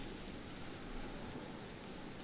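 Steady rain falls across a battlefield in the video game Medieval 2, a constant broadband hiss with no voices.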